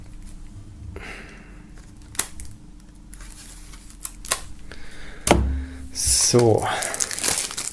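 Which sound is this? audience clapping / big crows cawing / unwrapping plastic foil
unwrapping plastic foil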